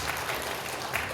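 Church congregation clapping during a conversation with elders at a Sunday service, a short burst of dense, even applause filling the moment, moderately loud with no break.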